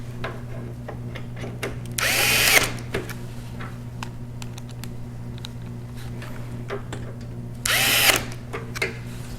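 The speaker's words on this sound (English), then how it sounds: "we're going to take the 2 screws we just removed and put them right back where they came from" A handheld power screwdriver whirs in two short bursts as screws are driven back into a video card mount inside a desktop gaming PC build, over a steady hum with light clicks between.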